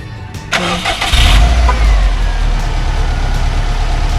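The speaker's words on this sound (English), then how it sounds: "We're gonna turn the car on." A Subaru WRX engine cranks briefly and catches after a belt and alternator change, then settles into a steady, loud idle rumble close by.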